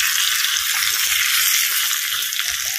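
A tempering of urad dal, curry leaves and asafoetida sizzles in hot oil, a steady close frying hiss with faint stirring clicks underneath and no voices.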